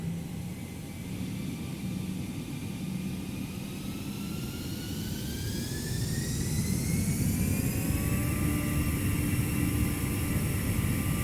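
A321 jet engines spool up in a flight simulator game, a steady roar overlaid with whining tones that rise in pitch and grow louder through the second half.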